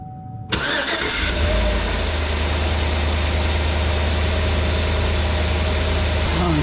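A 2009 Chevrolet Tahoe engine cranks and catches after a brief quiet start, then settles into a steady, loud, close idle with a low rumble that holds for several seconds.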